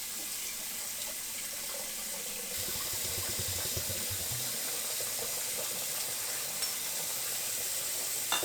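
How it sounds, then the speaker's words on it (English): Tap water runs into a sink while chemical bottles are rinsed, a steady hiss that thickens partway through into sloshing, gurgling water, close and without voices. "The next thing I did was rinse out the bottles thoroughly so they were clean for the new chemicals"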